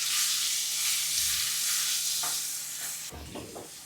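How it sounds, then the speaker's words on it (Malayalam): A ground paste of ginger, green chili and garlic fries in hot oil, giving a continuous hiss that eases slightly, with a sharp clatter of stirring near the end. "ഇഞ്ചി പച്ചമുളകും വെളുത്തുള്ളിയും കൂടി അരച്ച് വെച്ചാണ് അത് ഈ പേസ്റ്റ് ചേർത്ത് കൊടുക്കാം ഇനി ജസ്റ്റ് ഒന്ന് പച്ചമണം മാറിക്കിട്ടുന്നവരെ ഇളക്കി കൊടുക്കാം"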